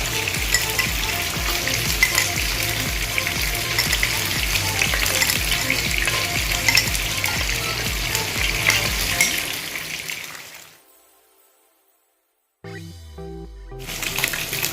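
Oil frying loudly in a pan for mackerel curry masala, a dense constant sizzle that cuts out abruptly into near silence before a brief return, no voices.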